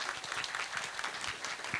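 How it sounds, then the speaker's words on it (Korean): Audience applause at a Korean community conference panel discussion, honoring six speakers and a moderator: steady, dense clapping from a fairly distant crowd, sustained evenly throughout without voices on top. "다시 한번 박수 부탁드릴게요."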